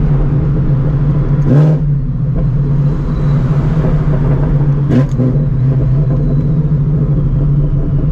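A straight-piped Shelby GT350 drones loudly and steadily while driving, a deep continuous engine rumble with two brief swells of revving near the start and middle, close and alone without voices.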